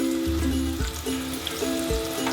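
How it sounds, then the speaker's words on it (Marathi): Onions frying in hot oil with bay leaves, a steady close sizzle and crackle with no voices over it. "कांदो आता चांगलं गुलाबी सर भाजून घ्यायचो"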